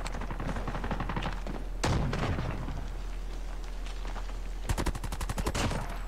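SMT Lapa submachine gun fired in a Call of Duty ranked multiplayer match: rapid automatic bursts, one burst early, a short volley near the two-second mark and a fast rattling string late, all close and sharp over a steady background hum.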